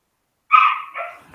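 A single short dog bark sounds after a moment of silence, a near, fairly loud double-pulsed yelp lasting under a second, with no talk around it.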